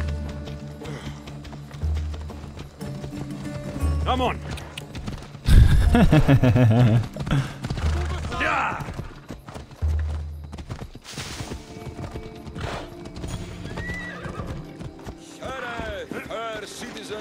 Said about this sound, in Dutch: Oh, dat is een paard.